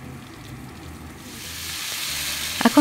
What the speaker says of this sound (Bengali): এখন তেলের মধ্যে ভালো করে রসুনটা আর কাঁচামরিচটা একটু ভাজা ভাজা করে নিচ্ছে